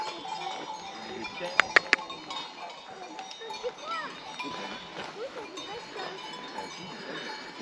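Sheep bleat faintly among a few sharp metallic clinks, with voices murmuring in the background, on the Tour du Mont Blanc.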